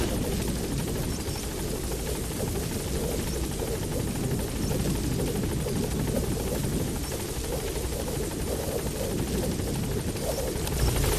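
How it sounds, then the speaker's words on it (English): A support helicopter in Metal Gear Solid 5 arrives at the landing zone, its rotor and engine roar steady, loud and close for the whole stretch, with no voices over it. "Support helicopter has arrived."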